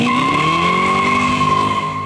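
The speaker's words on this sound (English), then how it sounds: "Cue the Corvette sounds." Early Corvette screeching its tires with engine noise beneath, a loud sustained squeal lasting a couple of seconds up close.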